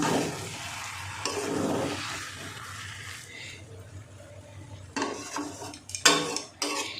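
Gobindobhog rice being stirred in a pot, scraping and clinking of a utensil against the metal with soft sizzling, louder knocks near the end.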